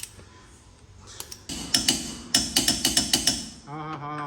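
A torque wrench tightens a large hub nut on a Volkswagen to about 200 newton-metres, producing a quick series of sharp, close ratcheting clicks after some quieter handling, followed by a brief tonal sound at the end.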